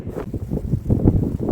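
Strong gusty wind buffets the microphone outdoors on a walking route toward Conques, a steady low roar with rising gusts throughout, no voices heard.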